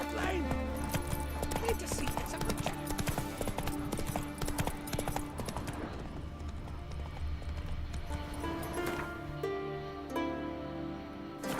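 Roach the horse gallops in The Witcher 3, rapid hoof clip-clops drumming steadily over game ambience and music, with a voice talking over parts of it.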